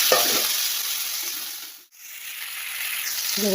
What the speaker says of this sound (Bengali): আলু আর ফুলকপিটা ভাজা ভাজা করবো